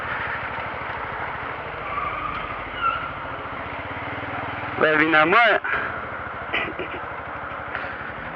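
Suzuki Bandit motorcycle engine idling and running at a steady low rumble, with a brief louder burst midway and people talking over it.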